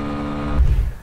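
A Yuki Scrambler A1-class motorcycle engine revving up to its rev limiter at 10,500 rpm, a loud buzzing drone that abruptly shifts into a choppy, stuttering cut near the end of the one-second burst.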